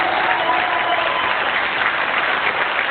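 Congregation clapping during a church service, a dense, continuous crowd applause that holds steady and fairly loud throughout, with no clear voices above it.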